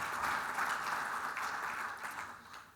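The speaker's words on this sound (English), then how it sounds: "just a quick round of applause for them" A small gathering at a strategic plan launch gives a short round of applause, a steady even wash of clapping throughout at moderate distance, with no voices over it.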